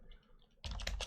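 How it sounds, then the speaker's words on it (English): Computer keyboard typing, quiet at first and then a burst of rapid, close, clattering keystrokes over the last half second. "Sorry about the keyboard as always, trying to be silent."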